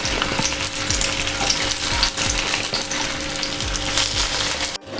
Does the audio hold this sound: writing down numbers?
no